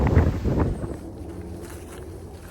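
Wind gusts across an exposed mountain viewpoint on the Appalachian Trail, a close rumbling buffet against the microphone that is strongest at first and then settles into a softer, steady rush.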